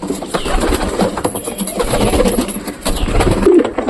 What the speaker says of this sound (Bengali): দেখো খাওয়ার জন্য সব কবুতরের নামছে